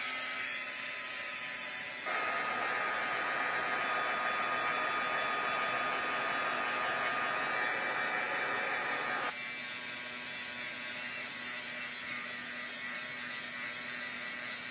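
A heat gun blows hard to melt embossing powder for a floral stamped craft project, switching on with a loud steady broadband whoosh that holds for about seven seconds before dropping back to a softer hum.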